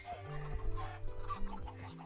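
Minecraft chickens cluck repeatedly in short stuttering bursts, near and moderately loud, with a faint trace of a voice underneath.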